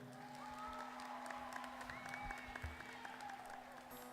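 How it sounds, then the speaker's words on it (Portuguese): Audience applause at a viola and accordion music gathering, honoring an accordion teacher: a steady, fairly faint wash of clapping with some cheering and a whoop, while a sustained instrument tone hums beneath. "Uma salva de palmas para ele."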